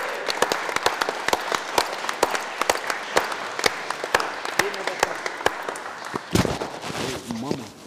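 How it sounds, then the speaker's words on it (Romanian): An audience applauds at the finale of a late-night giveaway event: sustained, fairly loud clapping from a crowd with sharp individual claps throughout, under some background voices and a brief surge near the end. "aplauze, aplauze"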